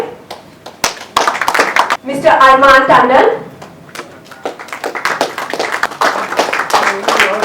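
Audience clapping at a sports league press conference, a short burst of applause in the middle of an announcer's speech, with talk before and after.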